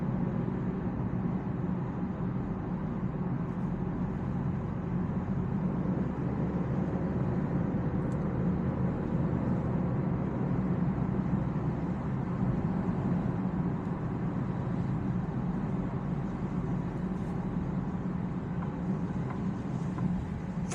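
Steady, low, muffled road and engine drone inside a 2024 Alfa Romeo Stelvio Ti driving in normal mode, constant and even with no talking.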